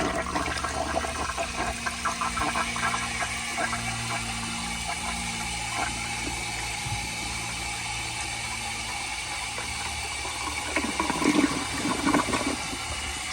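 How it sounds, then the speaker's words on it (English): A 1983 Eljer Hygeian toilet flushes with a steady rush of water and a clicking, ratchet-like mechanical rattle that swells near the end; no one speaks. "here is another flush"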